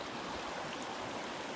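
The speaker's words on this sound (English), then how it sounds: "And there's a creek right there," A creek flows right beside a roadside camp, giving a steady, broad rushing wash of water close by with no other sounds standing out.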